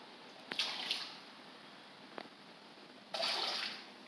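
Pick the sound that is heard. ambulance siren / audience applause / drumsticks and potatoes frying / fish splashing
fish splashing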